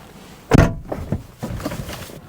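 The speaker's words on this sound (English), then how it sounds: "when you shut the door, there's quite a horrible noise" A high-mileage Mercedes W209 CLK diesel door slams shut with one loud close thud, then a scatter of harsh rattling and clunking noises that fade over the next second or two.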